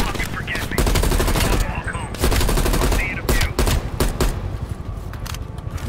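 Dense automatic gunfire and rattling bursts from the Call of Duty: Black Ops video game, loud and continuous with brief gaps, while a voice talks over it.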